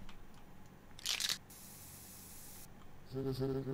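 Spray paint in the Garfield horror game The Last Monday: a short, loud hissing burst followed by a longer, steady airy spray, then a rattling game sound at the end, with no talk over it.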